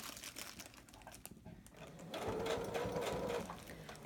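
A sewing machine stitches a wig track onto breathable mesh, its fast mechanical whir rising and growing louder halfway through, heard close with no talking.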